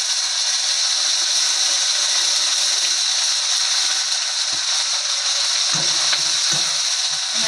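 Garlic and onion sizzling in oil in a pan while making kaju paneer, a steady bright hiss with a few clinks of stirring near the end, close and continuous.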